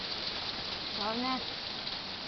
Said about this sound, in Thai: ฝนสาดลมแห้งเลยนะ